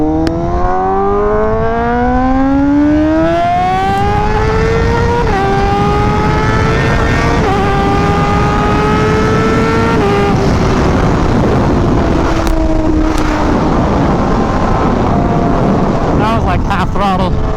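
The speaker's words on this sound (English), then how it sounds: "Throttle pretty much the whole launch. This bike is crazy fast. I still can't get over this exhaust. It's so loud." A Honda Fireblade RRR SP launches at full throttle, its very loud exhaust climbing steadily through the gears with brief dips at each shift, sustained and close, under a bed of wind noise.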